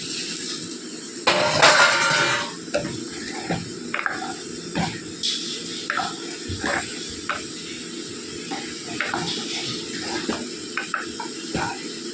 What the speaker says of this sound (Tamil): நம்ம அதில் தேவையான தண்ணி ஊற்றிக்கலாம் குழம்புல.